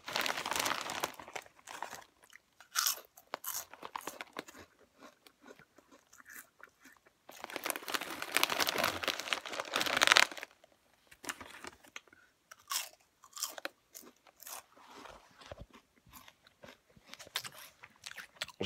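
Lay's Smokey Bacon potato chips crunched and chewed close up, with a crinkly bag rustling between bites; irregular bursts of crisp crunching separated by brief quiet pauses, no talking.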